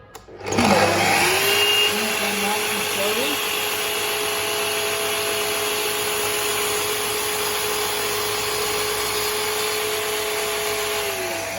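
Power saw docking a length of timber, starting with a rising whine and settling into a steady, loud, continuous cutting drone close by that runs for about eleven seconds without talk.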